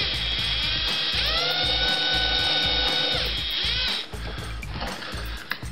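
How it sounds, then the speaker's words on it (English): A power drill whines at high speed boring angled holes into thin wood, its pitch dipping and recovering as it bites, then winding down near the end. "so I drill them out at an angle just a little bit"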